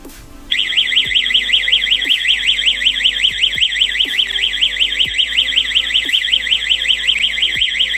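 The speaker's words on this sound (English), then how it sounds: "When alarm is in arm mode, the door opened, alarm will ring and you will receive app notification." A SMART WORLD SW-G66 wireless WiFi and GSM home alarm sounds a loud, continuous warbling siren that starts abruptly and keeps going, with faint electronic chirps beneath it.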